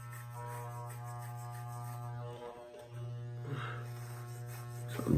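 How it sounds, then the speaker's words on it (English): An electric hair clipper buzzes steadily at close range as someone cuts their own hair, cutting out briefly in the middle and then resuming, with light rubbing against the head and no talk. "just move the clipper across your head"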